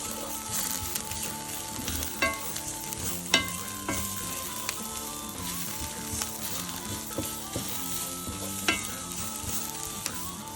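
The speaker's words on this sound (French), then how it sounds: "On mélange bien." Spices with cayenne pepper being stirred in a hot pan for chili con carne, a steady sizzle with scraping utensil strokes and a few sharper clinks, continuous and close with no talking.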